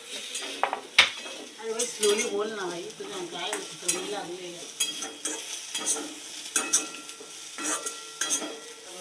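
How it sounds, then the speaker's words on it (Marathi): Capsicum and soybean chilli fry in a pan while a spatula stirs and clinks against the metal, with a steady sizzle beneath irregular scraping, and a voice briefly hums or murmurs along. "हे हाफ फ्राय झालं ते आपण शिमला मिरची टाकायचं की मग ते दोघं परफेक्ट लेवलमध्ये फ्राय होतील."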